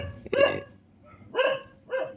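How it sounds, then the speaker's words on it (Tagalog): A dog barks outdoors in the mountains, three separate loud, close barks spaced out with short gaps between them. "Tahol na tahol po yung aso."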